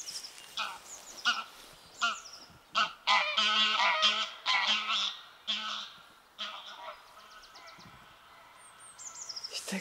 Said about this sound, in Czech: To je krásný, ty husy,